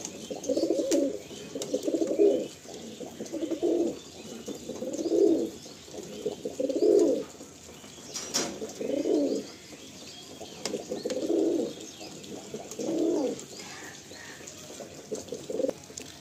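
Pigeons coo in a regular, repeating series of soft, low rolling calls about every one to two seconds, close by, with a faint background hum and no talking.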